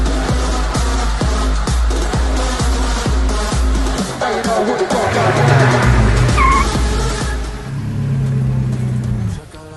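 A race between cars with engines revving and accelerating and tires squealing and skidding, loud and close. The engine surges come in a pulsing rhythm, with voices talking over them.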